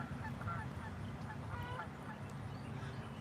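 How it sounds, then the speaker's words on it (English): A flock of geese honking in the distance, repeated faint calls over a low steady background rumble at a lakeside fishing spot. "I hear the geese. They're coming from somewhere."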